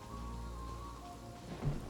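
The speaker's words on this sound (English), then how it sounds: "Look at the rain, it goes down and then back up." Rain in the Genshin Impact video game, a soft continuous patter of falling drops with a faint low rumble, ending in a slightly louder swell.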